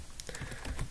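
A password being typed on a computer keyboard, a quick run of about half a dozen light, close key clicks spread across one second, faint and with no talking.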